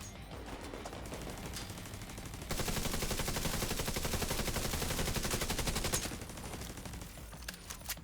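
Sustained automatic gunfire in a video game, with dense, rapid bursts that swell louder for several seconds in the middle over a constant background of game noise.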